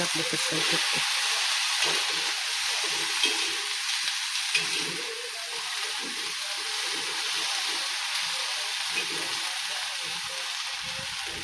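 Tender fenugreek greens sizzling in a hot pan tempered with chili, garlic and dal, a steady crackling fry throughout with occasional stirring scrapes and a few background voices.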